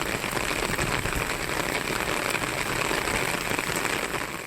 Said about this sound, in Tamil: ஒரு சில இடங்களில் ஆலங்கட்டி மழை பெய்தது.